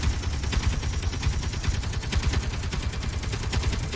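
Rapid automatic weapon fire in the space game Space Engineers, a steady, loud stream of repeated shots that runs the whole time with no pauses and no talk over it.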